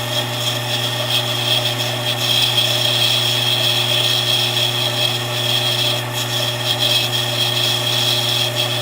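A machine tool, likely a lathe, takes a light three-thousandths cut on a workpiece, giving a steady, continuous motor hum with a constant hiss of cutting that runs unbroken throughout, close by and with no talking.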